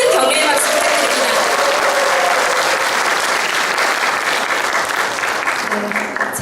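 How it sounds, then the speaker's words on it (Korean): An audience at an Ignite-style education talk event in Jinju gives loud, sustained applause for the youngest presenter, a first-year middle school student. The dense clapping continues evenly with faint voices mixed in at the start. "큰 격려의 박수"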